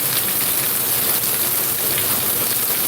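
Heavy rain pours down steadily and loudly, a dense, even hiss of drops beating on surfaces with no pauses and no voices.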